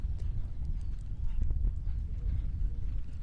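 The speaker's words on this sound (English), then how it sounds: "Here's Samba, the white horse of Elena" Horse hooves, including those of a white horse, pound the ground during a Nations Cup match: a rapid, muffled clip-clop of galloping over a constant low rumble of outdoor ambience.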